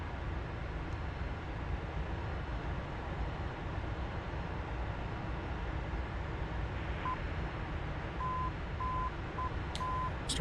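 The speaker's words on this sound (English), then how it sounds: "Start getting the Morse code beeps here from the TACAN beacon and from the ILS onboard system there" Short, thin Morse code beeps from a TACAN beacon and the ILS system in a DCS F-4 Phantom II cockpit repeat in a spaced pattern. They sit faintly over a constant heavy engine and airframe drone.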